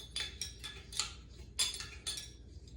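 Light metal clinks and small clacks as a Firemaple Star X2 Pro camping stove is fitted together, several short distinct taps spaced irregularly over a low background hum.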